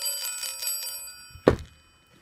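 Chinese health balls (Baoding balls) given as a souvenir: a light metallic rattling that leads into one clear, bright chime with a short ringing decay, close and fairly quiet.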